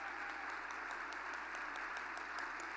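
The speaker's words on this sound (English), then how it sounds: "So I would love to have a round of applause for Sandy." A conference audience gives a round of applause, a steady, fairly faint crowd clatter heard from a distance, with a few sharper claps standing out and no talking over it.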